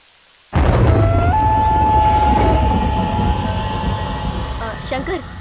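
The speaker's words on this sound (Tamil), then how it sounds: "மழை நிற்கிற மாதிரி இருக்கு" Steady rain in a Tamil drama setting, a dense broadband hiss that starts abruptly and holds loud and close, with a faint tonal whine and low rumble underneath and no speech.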